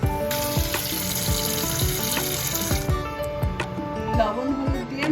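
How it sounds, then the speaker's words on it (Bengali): Bata fish being washed under running water, with a steady splashing stream and repeated scraping and rubbing sounds of the fish being handled in a bowl, a voice speaking over it. "এবার বাটা মাছ রান্না করব। আগে ধুয়ে নিতে হবে"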